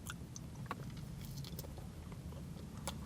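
Someone bites into and chews buttered white toast close to the mic, giving a few crisp crunches at irregular intervals over a quiet background, with no talking.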